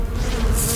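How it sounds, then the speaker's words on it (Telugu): A cartoon bee buzzes in one short, close, continuous drone, heard alone. "తేనెటీగ నన్ను కరిచింది"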